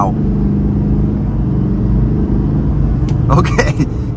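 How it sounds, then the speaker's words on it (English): A deep engine roar builds steadily as a 2024 Chevrolet Silverado 3500HD Duramax diesel pickup accelerates hard in four-wheel drive high, loud and close, with a burst of excited voices near the end. "we can try an acceleration in 4-wheel drive high, little bit of a brake boost, and let's go"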